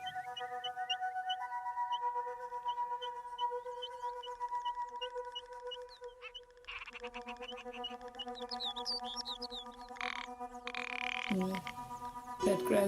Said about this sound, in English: Red grouse and the ptarmigan doing the cracking sound.